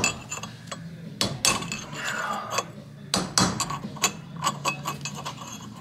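A hammer taps repeatedly at a trailer wheel bearing race, giving sharp metallic clinks at irregular intervals, some louder strikes standing out against a low steady background hum.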